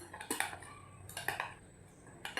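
Spoon or whisk clinks and scrapes against a bowl in a few short bursts while vanilla cake ingredients, including cornflour, are mixed; fairly quiet and close, no talk.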